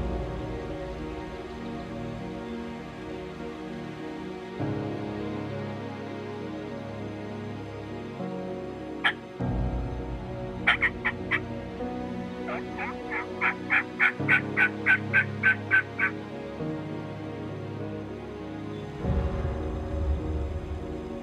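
Wild turkeys gobble at dawn during a spring hunt, with rapid rattling bursts rising over a steady outdoor hum. The calls come in several short volleys and carry clearly from a moderate distance, with no talking.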